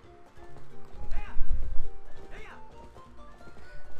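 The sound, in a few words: horse hooves galloping in a video game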